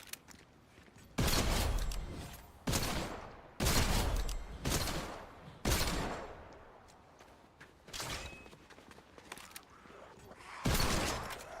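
Bursts of gunfire as zombies are shot in Fortnite, each volley a loud rattling cluster, repeating about every second or two with quieter gaps between.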